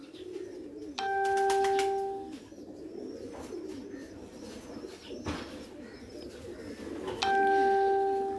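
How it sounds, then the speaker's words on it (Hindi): Pigeons coo softly in a loft under a low background murmur, while a bright electronic chime rings clearly twice, near the start and again near the end. "अभी ये सारे कबूतर मेरे जो चोरी हो गए थे, उसके बाद मैंने ये कलेक्शन की है।"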